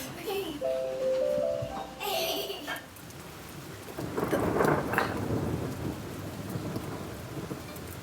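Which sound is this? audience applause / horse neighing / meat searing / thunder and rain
thunder and rain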